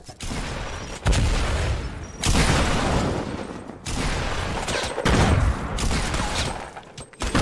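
Grenade blasts in a Fortnite battle royale match, a series of loud booming explosions with rumbling decay, four or five heavy bursts in a row with short gaps between them.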